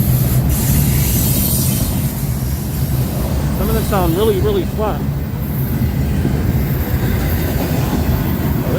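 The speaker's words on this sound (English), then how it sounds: "this train is starting to pick up speed now" A train rolls past on a cold evening in suburban Henry County, Georgia, picking up speed. Its loud, steady rumble and wheel noise fill the scene while a person speaks briefly over it.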